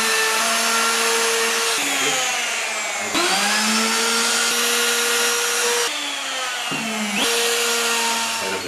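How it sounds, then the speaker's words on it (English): Router fitted with a rounding bit shaping the corners of macrocarpa wood: a loud high-pitched motor whine that dips in pitch each time the bit bites into the edge, in several passes with no talking. "in my case I'm going to use a router with a rounding bit"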